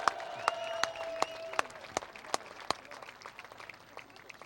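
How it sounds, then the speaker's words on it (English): Cheering and clapping from the crowd for the Italian winner of a KZ final at a CIK-FIA European karting championship round, with sharp individual claps over a steady hum of applause, a few whistles, fading slightly toward the end. "And a big cheer for the winner from Italy, Marco Ardigo"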